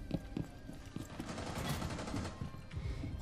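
Rapid bursts of gunfire in the video game Rainbow Six Siege, sharp shots repeating in quick irregular volleys, loud and close against a dense background of game noise.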